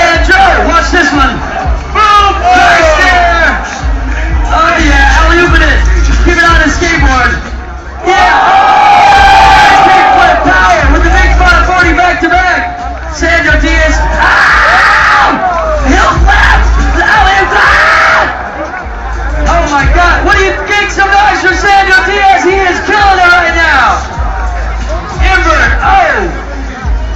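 A large crowd at a Dew Xtreem stunt show chants and yells loudly and continuously, cheering and whooping in unison, with an announcer's voice egging them on over the roar.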